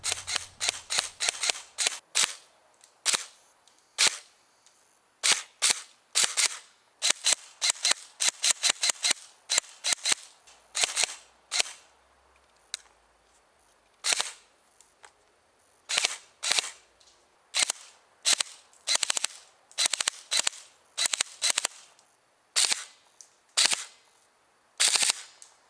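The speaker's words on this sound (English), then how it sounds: "let's shoot it a bit before wrapping this up." G&G Combat Machine CM16 SR-XL airsoft rifle firing, sharp crisp snaps in single shots and rapid bursts, close and clear with short pauses between strings.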